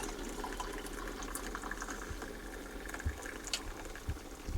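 An electric kettle has just boiled, with its water still bubbling and hissing in a steady, fairly faint rumble, broken by a few soft clicks and knocks.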